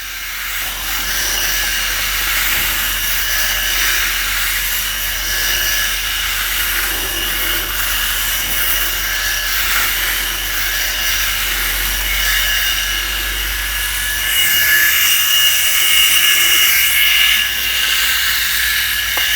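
A Philips 5000 series electric head shaver cuts stubble close to the skin, giving a steady high-pitched motor whine with a sharp, hissy cutting buzz that continues without a break for the whole stretch. No one speaks over it.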